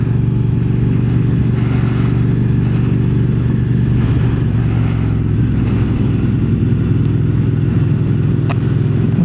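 A motorcycle ridden fast on a road, its engine a steady loud drone with heavy wind rush throughout, no clear revving changes.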